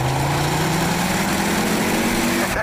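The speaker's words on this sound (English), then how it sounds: "One of my favourite parts of this car is the sound of the engine." A Ford Focus RS engine runs in a loud, continuous drone close by, its steady low tone shifting gradually upward with no talk over it.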